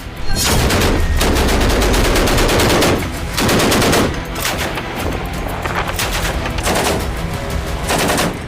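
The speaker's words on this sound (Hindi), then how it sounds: "तोप और गन से लाइव फायरिंग हो रही है।" Russian naval guns live-firing at sea: loud, close bursts of rapid automatic fire separated by short pauses, repeating several times across the stretch.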